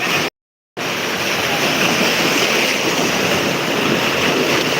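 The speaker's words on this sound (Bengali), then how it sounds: "দেখতে পাচ্ছেন এ তীরে এসে কিভাবে ঢেউ ধাক্কা মারছে" Waves from the Bay of Bengal crash on a beach in Chattogram, heard as a loud, continuous surf roar mixed with wind buffeting the microphone after a brief dropout near the start.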